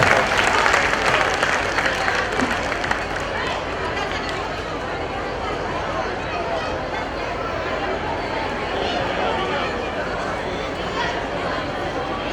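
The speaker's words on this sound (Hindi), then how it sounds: "एक बार ऐसे परिवार के लिए दोनों हाथ उठाकर जोरदार तालियां बजाकर स्वागत करें" Crowd applauding to welcome a family at a Jain Panch Kalyanak ceremony in Baraut, sustained hearty clapping mixed with chatter and crowd murmur, strongest at the start and continuing steadily throughout.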